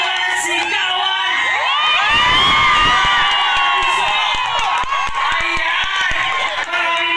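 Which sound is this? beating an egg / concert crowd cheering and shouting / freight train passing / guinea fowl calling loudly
concert crowd cheering and shouting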